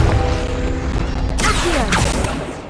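A Confringo fire spell blast in Hogwarts Legacy bursts out mid-clip as a broad whooshing crash over a busy game soundscape of hums and clatter, with a second swooshing impact shortly after.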